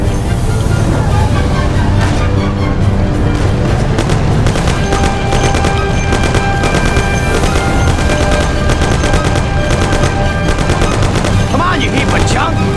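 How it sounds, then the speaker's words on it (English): Dense gunfire rattles through a shootout in the Mafia video game, rapid bursts and single shots overlapping loudly and almost without pause alongside vehicle noise, with a brief voice calling out amid the shooting. "Sam, shoot them!"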